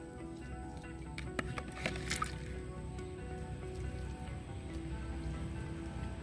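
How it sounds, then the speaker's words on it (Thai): Alum dissolved in water is poured onto the soil near ants and around plants, making a faint, steady trickle and soft patter of liquid soaking into the ground. "ผสมกันและนำมาลดราด ที่หลังมดและใกล้ ๆ ต้นพืชแบบนี้เลยครับ"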